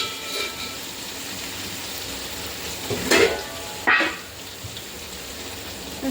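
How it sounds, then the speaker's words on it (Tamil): Vegetables and lentils sizzle softly as they are sautéed in a pan, with a few louder bursts of stirring and scraping, close by, with no talking. "இப்போ நம்ம நல்லா வதக்கிக்கணும்."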